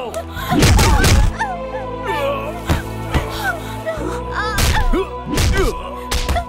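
Punches and blows land in a dubbed Indian action movie fight, heavy thumps and whacks arriving in bursts over a loud music score, with shouts and grunts mixed in.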